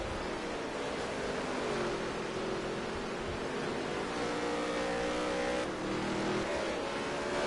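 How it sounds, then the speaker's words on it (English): Race cars roar around a dirt track during a NOSSCAR Dirt Touring Series feature race in Las Vegas, a dense, continuous engine drone with rising and falling pitch as several cars rev and pass, with no talking. "19 cars on the racetrack."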